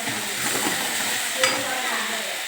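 Tomatoes cooking with salt in a pan, stirred steadily, giving a close, continuous sizzle and frying hiss with light scraping and a brief clink of utensil against the pan.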